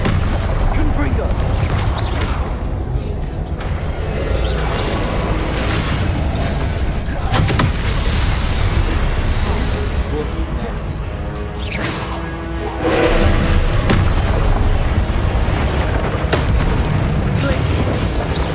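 Spell explosions from a Harry Potter video game, the Confringo blasting curse, go off as repeated loud booms and crashes over dense, continuous game noise, with a voice speaking through parts of it.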